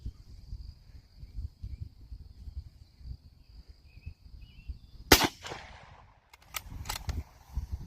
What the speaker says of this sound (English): we're gonna shoot the steel plate I made, the really janky steel plate I made right quick. 5 rounds.